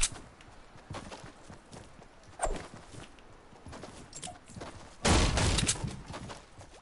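Bursts of gunfire in the military shooter game Squad, heard as sharp, uneven cracks spread across a few seconds and capped by a louder sustained volley near the end, with no talk over it.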